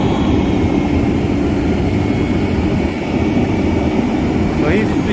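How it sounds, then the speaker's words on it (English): Tractor working a corn silage pile, pushing chopped corn up the heap and packing it down as trucks dump loads at the edge; a steady, loud low engine drone runs throughout, with nearby voices talking over it. "the guy in the tractor's job is to push it up there where he wants it and pack it down"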